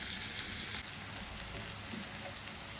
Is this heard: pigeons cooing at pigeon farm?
no